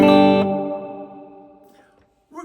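A strummed chord played through an M-VAVE Mini Universe reverb pedal on its room reverb setting is cut off after about half a second. A smooth, fading room-style tail rings on alone, followed by a faint handling noise at the end.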